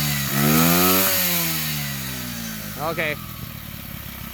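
A 90cc pit bike engine runs close and loud with a buzzy two-wheeler drone, revving briefly and then settling toward idle, with a short spoken word over it.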